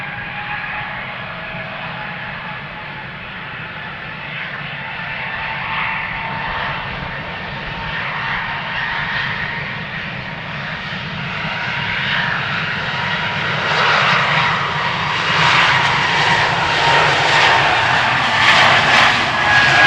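Airbus A220 jet engines roar on departure from runway 36L at Amsterdam Schiphol Airport, a steady, distant rumble that swells louder toward the end with no voices present.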